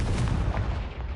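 A Confringo fire spell in the game Hogwarts Legacy, heard as a loud, close, booming blast that carries a deep rumble through its brief length.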